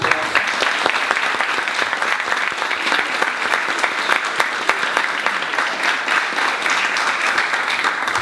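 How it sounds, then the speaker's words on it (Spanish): An audience at a forum on Indigenous and community media breaks into loud, sustained applause, a dense steady clatter of many hands clapping for a community media pioneer. "pediría un gran aplauso"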